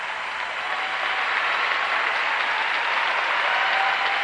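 A large arena crowd at the Met Center applauds a professional figure skating performance, a broad, even roar of distant clapping that holds steady and swells slightly throughout.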